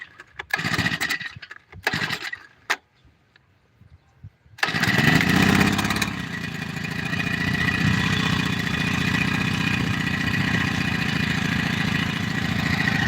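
A few sputtering kick-start attempts and pauses, then the small engine of a spray pump for spraying wheat catches and keeps running with a steady mechanical drone, close and loud.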